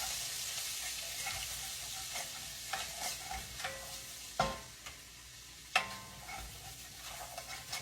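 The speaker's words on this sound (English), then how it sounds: "I'm gonna stir it around and see if I think that looks like enough" Flour is stirred into hamburger steak gravy in a skillet, producing a soft, quiet sizzle under repeated scraping strokes of a utensil, with two sharp knocks against the pan.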